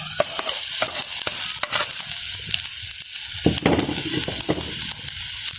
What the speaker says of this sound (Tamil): நாங்கள் மசிச்சு வச்ச உருளைக்கிழங்க போடுவோம்.